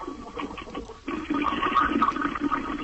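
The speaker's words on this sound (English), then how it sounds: "Flush it down the toilet." A toilet flush sound effect: a brief gurgle, then a sudden rushing swirl of water that stays loud and close for a couple of seconds.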